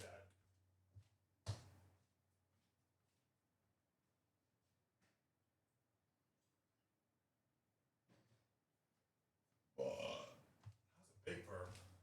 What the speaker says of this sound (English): Man, I don't normally burp. That was a big burp.